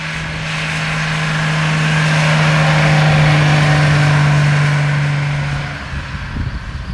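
A 1938 Mercedes 320 Cabriolet A engine runs near and loud, not firing cleanly on one spark plug, with a steady low hum that swells slightly and then drops off toward the end.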